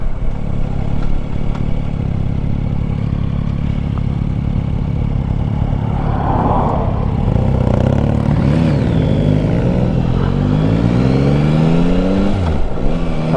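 Yamaha Tracer 9 GT motorcycle pulling hard through quick-shifted gear changes, engine pitch climbing and dropping in steps with induction roar, heard loud and steady over constant wind rush from the rider's position.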